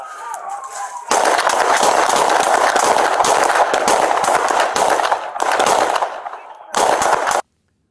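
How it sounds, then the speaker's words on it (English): Police officers fire their service weapons in a continuous loud volley of overlapping gunshots lasting several seconds, with brief gaps and an abrupt stop, and some faint shouting mixed in. "several officers discharged their service weapons at the subject, causing him to fall towards the ground and drop his weapon"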